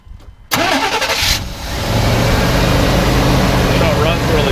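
A 1993 GMC Yukon with a 350 V8 cranks and fires about half a second in, a loud burst settling into a steady, close rumbling idle.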